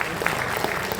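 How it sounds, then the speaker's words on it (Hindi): Spectators at a bodybuilding championship in Chhapra, Bihar clap, a brief, fairly faint burst of crowd applause heard as an even patter of many hands. "सर के लिए जोरदार तालियां।"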